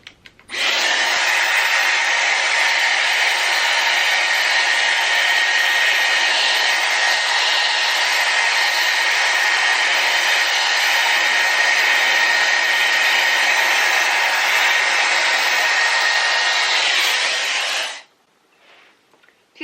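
A Dyson Airwrap hair styler on its lower heat setting blow-dries and shapes bob-length hair, giving a steady, loud, close airy whoosh that runs unbroken for about eighteen seconds and then cuts off abruptly.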